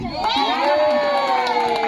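A lively crowd cheers and shouts loudly, with high children's voices mixed into a continuous burst of excited noise.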